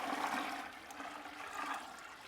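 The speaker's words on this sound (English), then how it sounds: "This is going to be my rinse water. Going to go ahead and pour that" Rinse water pours steadily into a laundry bucket, a continuous splashing rush that swells and eases with no talking over it.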